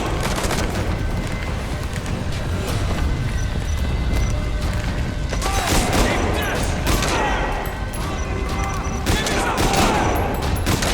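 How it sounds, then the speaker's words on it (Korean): Gunfire in the stealth video game Metal Gear Solid V: The Phantom Pain on PC, dense crackling bursts and booms of a firefight running throughout, mixed with game ambience and a voice heard under the shots. "다른 데서 지금 쏘고 있어"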